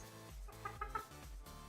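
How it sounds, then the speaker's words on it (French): A black Dutch hen with a white head gives a few short, throaty clucks in the middle, over a steady low background rumble. "Poule hollandaise, noire à tête blanche."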